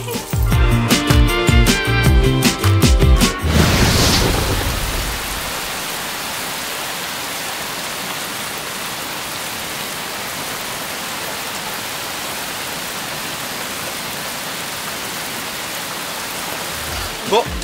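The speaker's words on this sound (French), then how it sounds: "finalement on se retrouve sur une pluie tropicale" Heavy tropical rain pours down steadily in Bali, a dense even roar that continues alone after a few seconds of louder mixed sound at the start.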